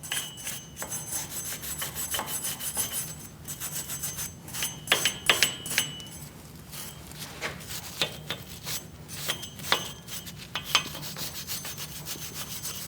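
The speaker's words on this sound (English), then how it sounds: "Use a wire brush." A wire brush scrubs the front wheel hub of a 2016-2019 Chevrolet Cruze during a brake job, giving repeated rough, raspy strokes in uneven bursts, fairly close and moderately loud, with short scraping accents between quieter stretches.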